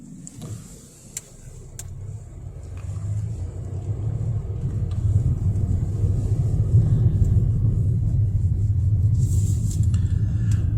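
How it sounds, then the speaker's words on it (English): A Jeep Gladiator drives through powder snow on unplowed roads, its low engine rumble and tire roar building steadily from moderate to loud and holding, with a few faint clicks early on. "Jeep Gladiator trying its thing."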